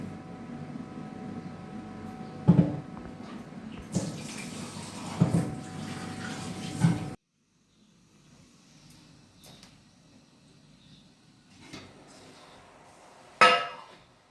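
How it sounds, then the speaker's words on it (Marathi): Water poured into a mixer jar in a home kitchen, a steady splashing pour for about seven seconds with brief knocks, then quieter handling noises and a sharp clink near the end. "हे मिक्सर दोन पण पाणी टाकून दिलं मी"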